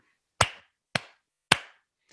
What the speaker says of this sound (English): Just clap.